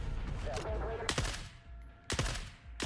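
AK rifle fire in the video game The Forever Winter, with two loud, close bursts of rapid shots and quieter game sounds and speech-like noise between them.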